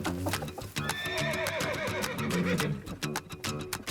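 A brumby horse whinnies loudly while its hooves clip-clop in a steady, close rhythm on the ground.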